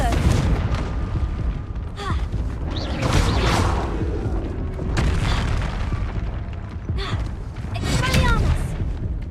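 Confringo spells go off repeatedly in Hogwarts Legacy, a run of booming, crackling blasts at irregular intervals under a voice calling out spells.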